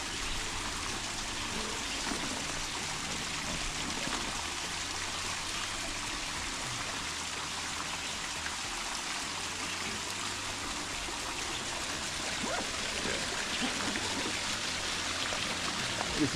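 Water flows steadily over a rock formation at a waterfall in a sustainable garden, a constant rushing and trickling wash heard from nearby without pause or voices.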